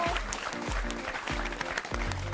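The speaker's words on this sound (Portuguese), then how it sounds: "As palmas estão tão baixinhas aqui" A church congregation claps softly together in a steady rhythm, the applause quiet and somewhat distant, with no voices over it.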